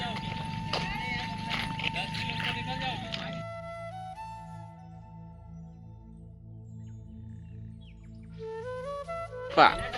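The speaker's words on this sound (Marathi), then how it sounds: "ही आली बैलगाडी" A bullock cart rolls past on a village road near a Hanuman temple on the Narmada parikrama route, no driver aboard and the driver walking behind. Steady hoof clopping runs throughout with tonal voices over it, ending in a sharp loud knock.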